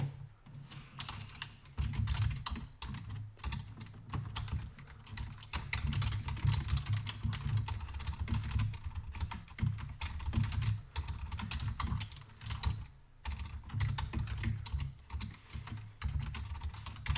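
Computer keyboard typing runs continuously and close-up, a dense rapid clatter of keystrokes with brief pauses, with no talk over it.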